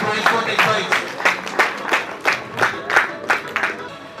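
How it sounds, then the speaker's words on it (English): At a college technical symposium prize ceremony, the audience claps in a steady rhythmic beat, about two claps per second, loud and close, with crowd voices mixed in. "Guys, give them a big round of applause"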